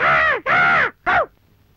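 Three harsh crow caws ring out close and loud, two long calls then a shorter one after a brief gap, with quiet background between them.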